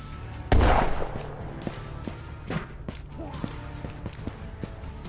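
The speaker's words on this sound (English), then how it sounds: "Oh, look at that grenade." A sharp, heavy grenade blast opens an extraction shooter firefight, followed by scattered distant gunshots and faint footsteps under a low ambient rumble.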